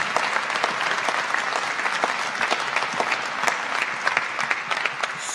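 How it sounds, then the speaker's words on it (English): An audience at a rally in the Pennsylvania Capitol in Harrisburg claps in sustained, dense applause, many hands close and loud with no letup throughout. "Give him a round of applause."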